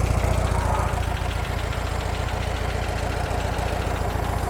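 A 1964 Volkswagen Beetle California bug engine with a Solex carburetor idles close by, a steady rapid low chugging throb throughout.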